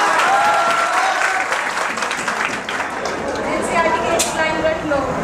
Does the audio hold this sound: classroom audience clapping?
yes